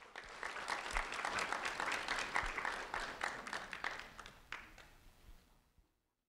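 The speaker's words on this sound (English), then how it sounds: "a round of applause for Lauria Miguel" An audience at a Lee County Sheriff's Office student recognition ceremony claps together, a moderately loud patter of overlapping hands that swells, then tapers and stops near the end.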